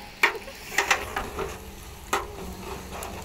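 Chicken curry cooking in a pan for a picnic, with a spoon scraping and stirring through the meat over a soft continuous sizzle, several distinct stirring strokes near and fairly quiet.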